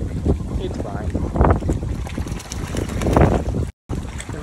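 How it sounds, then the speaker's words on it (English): Strong wind roars and buffets the microphone in heavy gusts, rumbling loudly throughout with a brief dropout near the end. "it's real windy today"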